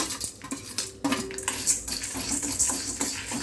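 Black pepper, cumin and dried red chillies being dry-roasted in a pan for a garlic kulambu, with a spoon scraping and clinking against the metal in quick, busy strokes, close and fairly loud without talk.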